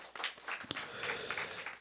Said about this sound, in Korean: 모든 영광 하나님께 올려드리는 박수 우리 한번 드렸으면 좋겠습니다